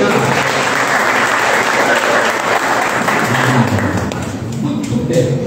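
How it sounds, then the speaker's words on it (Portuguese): A church congregation at a Sunday family service applauds together in a dense, loud wash of clapping that thins a little toward the end, with some voices mixed in. "Você vai aplaudir."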